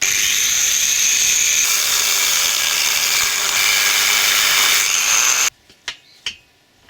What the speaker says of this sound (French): je vais percer au travers de la tige filetée pour reformer le trou